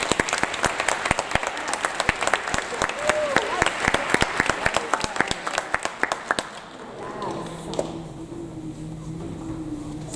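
Audience applause at a 7th grade school awards ceremony, a dense crowd of clapping that fills the room for about six seconds before thinning out into a quieter murmur.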